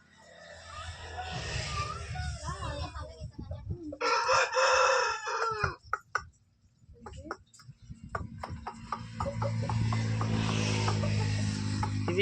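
A Rasangi rooster, a ten-month-old bird, crows loudly and close by in two long calls, with clucking and someone talking in between.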